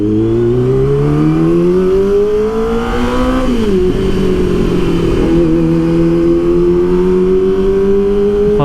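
A Kawasaki ZX25R motorcycle fitted with a dB killer in its exhaust revs loud and close, pitch rising steadily, dipping briefly near the middle, then climbing and holding high again without a break.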